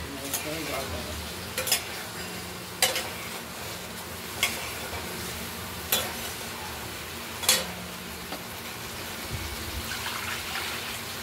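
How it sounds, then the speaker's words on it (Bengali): Fried cauliflower goes into a pan and gets stirred, with a low sizzle under sharp spoon-on-pan clanks recurring every second or so, moderately quiet and close. "এবার ভেজে রাখা ফুলকপিগুলো আমরা দিয়ে দিলাম।"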